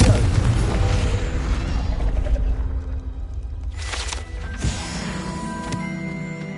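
A loud explosive blast from the Confringo fire spell in Hogwarts Legacy rumbles and decays, then a sharp crack and lighter mechanical clinks ring out as it fades.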